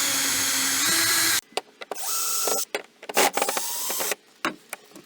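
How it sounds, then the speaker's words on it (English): An electric drill whirs in several short bursts, stopping and starting as it backs out screws from an RV door lock, with small clicks and clatter between runs. "This is a lot easier with an electric drill"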